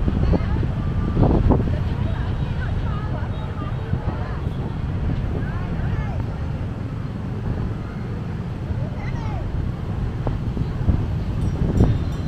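Strong wind blows on the Thu Thiem riverside in Saigon on a busy Friday night, a steady roaring rush into the microphone with a crowd murmuring in the background.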